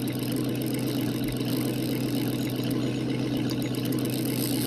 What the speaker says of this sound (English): it seems like these engines are so loud that you can't always hear